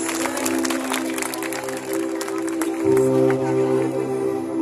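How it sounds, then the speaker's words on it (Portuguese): A congregation applauds during an evening worship service at Campo do Leão in Campina Grande, a steady crowd clapping layered over sustained music and voices. "aplaude a Jesus bem forte"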